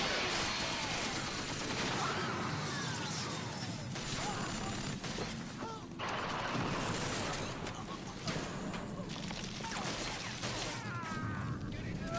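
Sustained volley of gunfire in the video game Killzone, dense overlapping shots and crashes forming a continuous loud barrage across the whole stretch, with a shouted voice briefly mixed in.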